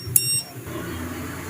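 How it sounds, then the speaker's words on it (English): A digital multimeter gives a single short, high-pitched beep as its red and black probes touch together, followed by quiet room tone. "when these probes are connected together, they produce a sound. I want to say that they beep."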